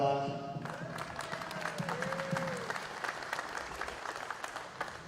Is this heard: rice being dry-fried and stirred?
no